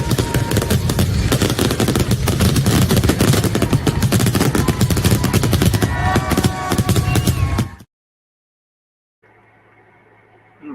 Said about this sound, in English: we get fireworks this 4th of July.